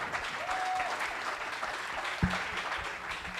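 Applause from an audience at a professional triathlon pre-race press conference, a steady broadband wash of clapping filling the short stretch, moderately loud with a brief thump near the middle.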